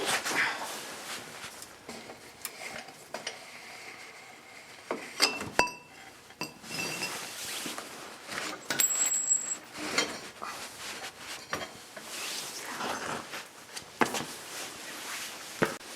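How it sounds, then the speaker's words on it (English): Rear axle is worked out of the wheel of a 2008 Harley Davidson Road Glide touring motorcycle, with close metallic clinks, taps and scrapes coming in irregular bursts over a quiet workshop background. "at the same time I'm going to pull that axle out"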